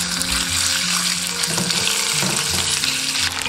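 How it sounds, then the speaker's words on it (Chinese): Pork belly frying in a little cooking oil in a clay pot, a steady loud sizzle with crackling and occasional stirring scrapes throughout, no voices. "砂锅里倒入少许食用油，下入五花肉煸出油脂"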